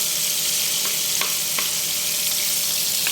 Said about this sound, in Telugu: ఇదే నూనెలో ఉల్లిపాయలు, పచ్చిమిరపకాయలు కూడా ఎర్రగా వేయించుకోవాలి